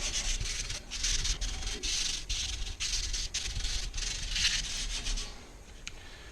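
A Fulgor Milano cooktop grate is scrubbed by hand with a plastic scrubber, producing close, continuous rasping and rubbing strokes in quick rhythm that stop near the end.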